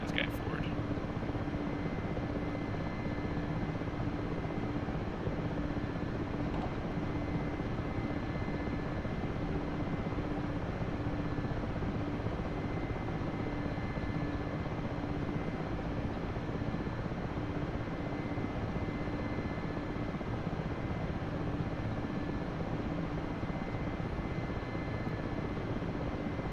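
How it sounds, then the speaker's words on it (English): A tiltrotor-style aircraft flying in helicopter mode on pure rotor power gives a steady, loud, droning rotor and engine roar that holds unbroken throughout, with a pilot talking over it. "So it's kind of going from airplane mode to helicopter mode. And so now we're out of it, and it's just pure rotor power."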